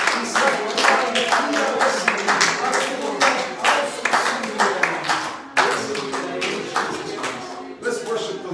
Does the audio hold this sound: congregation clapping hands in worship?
yes